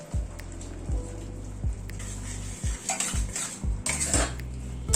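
Corn goes into spiced masala in a pan with several spoon clanks and scrapes against the metal, followed by a soft sizzle and stirring, close and without speech.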